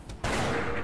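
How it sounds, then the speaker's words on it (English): Pistol gunfire in Darkest Dungeon: a quiet lead-in, then a sudden loud blast that rings out with a dense, sustained crackling tail. "Pistol shot this."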